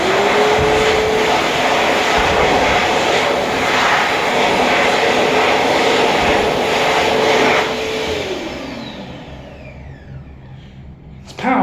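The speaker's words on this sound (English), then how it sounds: "The other unit has an Ike hand dryer supplied by Simex." Ike hand dryer from Simex blasting loudly at close range with a strong steady rush of air that holds for several seconds, then winds down and fades out before a short thump at the end.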